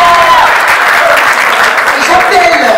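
Audience applause at a graduation ceremony in a hall, steady dense clapping throughout while a voice speaks over it through a microphone.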